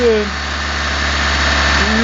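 A car engine with a motorized throttle body idles after repair, making a steady, loud, even hum with a low mechanical drone and no knocking. Voices talk over it.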